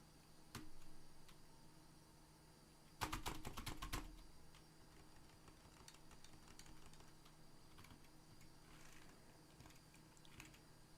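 Fingers typing on a computer keyboard, a sparse scatter of quiet clicks with one quick burst of rapid keystrokes, heard alone in a still room.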